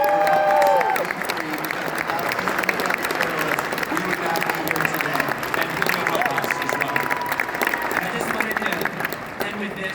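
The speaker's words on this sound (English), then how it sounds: "So give a round of applause to them" Loud audience applause at Americafest 2021, a dense continuous roar of clapping with crowd noise and a few cheers, and voices briefly heard within it at the start.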